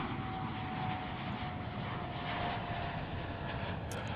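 An airplane taking off at DFW airport, a steady heavy engine roar that holds loud and unbroken throughout, with no talking.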